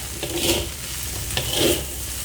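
Fried rice with ham, bacon and shrimp scrapes and sizzles in a hot pan, with two rhythmic sweeps of stirring over a steady frying hiss.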